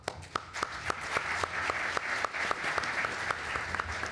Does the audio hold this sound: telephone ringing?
no